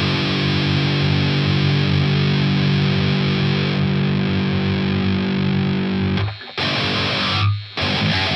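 A 7-string electric guitar played through an Eleven Rack pre-EQ effect, a loud sustained distorted chord ringing for about six seconds before cutting off, then two brief chopped bursts.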